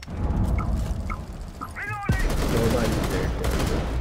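Sustained bursts of gunfire in Rainbow Six Siege, first muffled and distant, then louder and closer after a sharp shift, with a few brief electronic chirps in between.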